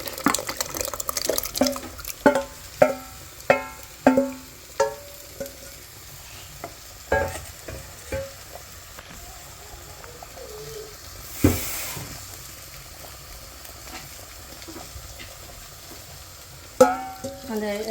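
Cooked dal being added to a pot of sambar and stirred, with a run of sharp scraping and stirring knocks near the start, then a few scattered clinks and wet stirring sounds, close and fairly quiet.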